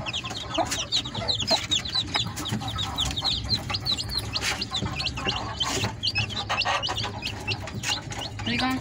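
Chickens cluck repeatedly in quick, busy bursts, close by, with a steady background murmur and occasional knocks; faint voices mix in.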